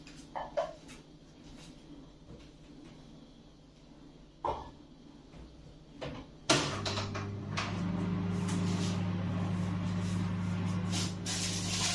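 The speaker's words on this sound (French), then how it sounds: "je vais passer au micro-ondes quelques minutes." A microwave oven runs to melt butter: a click and brief clatter, then from about midway a steady, fairly loud electric hum with a low tonal drone that continues alone to the end.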